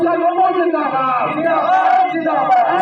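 A large crowd at a political rally on a Patna ground roars and chants loudly in unison, with voices blending into a dense, sustained cheer close to the microphone.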